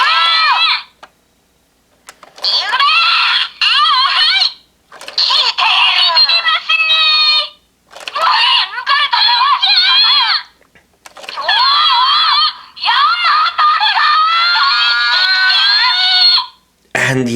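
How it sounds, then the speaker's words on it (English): A Kamen Rider Gavv DX Frappeis Gochizo toy plays a string of loud electronic voice lines and screechy jingles in short bursts separated by brief silences, close to the listener. "there are more voice lines you can get from the Gochizo up top"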